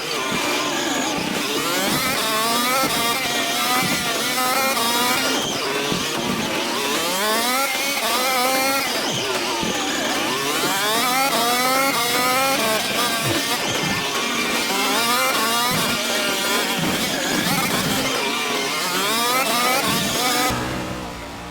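A V8 Supercar in a racing video game set at Sonoma revs hard with wheel spin. The engine note is loud and continuous, with rising and falling sweeps as it climbs and drops through the revs, and a commentator talks over it.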